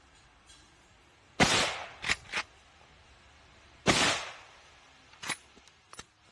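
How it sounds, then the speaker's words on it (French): Several sharp, muffled gunshots from a rifle fitted with a sound moderator, at irregular intervals, each a quick burst followed by a brief tail, with quieter clicks between and no talking. "Alors Emma, sensation de tir. Beaucoup plus souple, beaucoup plus stable"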